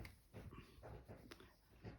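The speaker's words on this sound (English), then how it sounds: "That is my cat or my dog being naughty out there." A dog whimpering and making short soft yelps in a few bursts, faint and somewhat distant.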